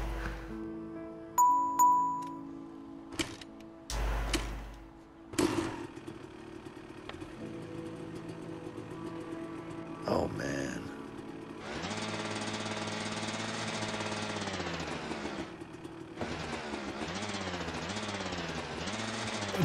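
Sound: machine being started, from the video game A Way Out

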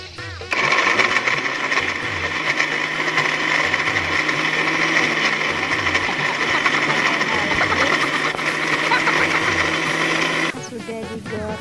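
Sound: electric blender grinding cooking ingredients

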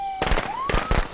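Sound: firecrackers thrown in Friday the 13th video game

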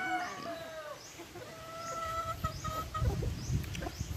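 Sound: chicken pullet clucking

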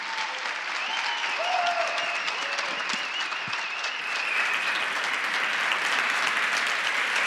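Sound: audience applause welcoming a speaker

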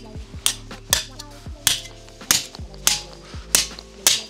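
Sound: Pulsa 40P gas nail gun firing a nail

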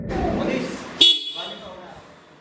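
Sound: motorcycle dual horn

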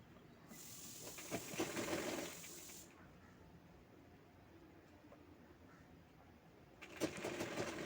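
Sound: sewing machine stitching cloth

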